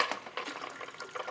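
Drain water flowing from the auto shutoff valve of a small RO (reverse osmosis) water system, a close, steady trickling wash of running water with no talk.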